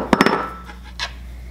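A spatula scrapes the bottom of a nearly empty peanut butter jar. A few quick close scratches come at the start, then a softer scrape follows about a second later, with no talking.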